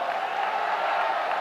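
A crowd at a religious gathering claps and cheers together, a dense continuous wash of applause and voices that holds at a steady level throughout.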